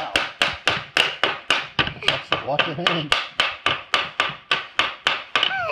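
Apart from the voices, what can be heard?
child hammering with a Vilac wooden toy hammer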